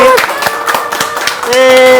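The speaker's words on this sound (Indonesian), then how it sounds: "tepuk tangan dong sekali lagi" An event audience claps for the guests, sharp, fairly close hand claps in an irregular rhythm, with a voice and music-like tones underneath.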